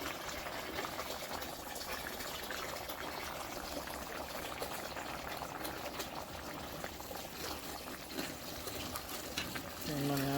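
Pumpkin rice boiling in a pot as it is stirred, giving a steady, fairly quiet bubbling hiss throughout, with a brief clink near the end.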